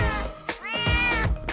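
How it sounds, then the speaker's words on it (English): A kitten gives a single clear, drawn-out meow, rising and falling in pitch, close and fairly loud with nothing else behind it. "Your very first kitty cat!"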